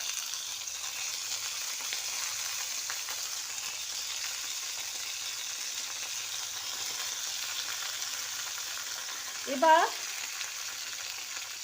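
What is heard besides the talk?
mixed vegetables frying in a pan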